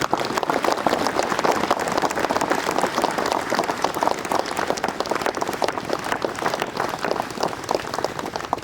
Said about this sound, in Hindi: तालियां बजाएंगे, जोर से बजाइए।